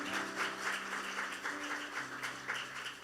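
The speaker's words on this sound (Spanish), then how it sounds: "Dale un fuerte aplauso al Señor." Church congregation applauding during a Spanish-language service, a fairly faint, steady wash of clapping that continues throughout.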